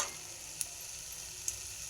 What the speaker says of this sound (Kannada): ಎಣ್ಣೆ ಕಾದೈತಿ, ಇವಾಗ ಸ್ವಲ್ಪ ಶೇಂಗಾ ಹಾಕೋಬೇಕು